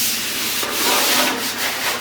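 Hand sanding on the bodywork of a 1951 Ford truck, a close, loud, continuous rasping rub with a few stroke swells.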